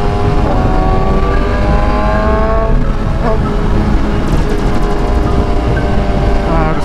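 Motorcycle engine revving steadily while riding, a loud, close drone that climbs and shifts pitch through gear changes, with rushing wind noise underneath.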